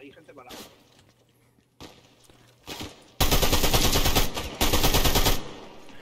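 Quiet background with a few faint clicks, then loud rapid bursts of automatic gunfire rattle out in two long, close volleys.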